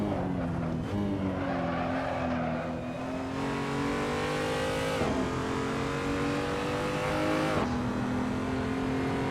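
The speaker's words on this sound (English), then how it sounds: "Okay, cars are warming up." Race car engines in the Assetto Corsa video game, a BMW M235i at the Nordschleife, drone loudly and steadily, with the pitch climbing and dropping through repeated revs and shifts and no talk over them.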